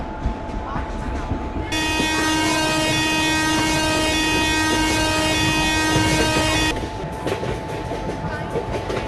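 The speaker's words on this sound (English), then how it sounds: "Train number 12655 Deccan Odyssey Special Express is scheduled to depart from" A train in a railway video game pulls away from a station with a long steady horn blast lasting several seconds over a continuous rumbling background, while station announcement-style voices speak.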